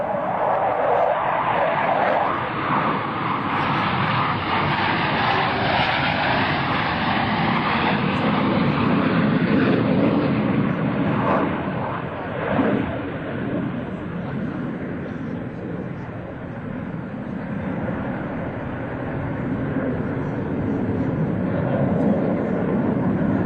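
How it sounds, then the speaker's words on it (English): Two US Navy Blue Angels jets in carrier landing configuration at the 2003 Vectren Dayton Airshow, a continuous loud broadband engine roar that swells and fades slightly as they pass, steady throughout. "both aircraft are in the carrier landing configuration. As they approach for a maneuver we call the Fortis"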